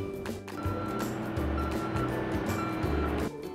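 A recycling truck moving along a residential street, its steady engine rumble and drone continuous and fairly full throughout, with no speech.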